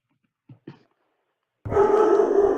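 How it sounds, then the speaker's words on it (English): A dog barking indoors, two short sharp barks followed after a pause by a sustained loud, close bout of barking and growling. "My dog's barking because I'm getting new lighting."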